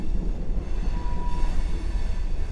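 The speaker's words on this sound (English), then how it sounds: "during this pause of the train going by and the sound" A long train rolling past, a loud, steady low rumble of wheels and cars close by, with a faint high squeal briefly rising over the continuous roar.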